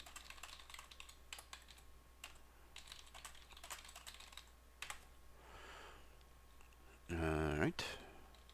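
Soft clicking of keys on a computer keyboard in scattered bursts, faint and close, with a louder voice breaking in near the end.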